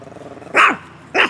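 A dog barks twice, loud and close, with a short gap between the sharp barks, aimed at a passing bicycle rider, over faint low background hum.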